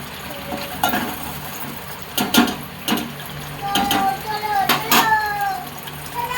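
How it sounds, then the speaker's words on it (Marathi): Masala for a chicken dish roasting in a pan, with a steady sizzle broken by repeated scrapes and clanks of a spoon stirring against the metal, close and fairly loud. "मसाला असा मस्त भाजून घेऊया."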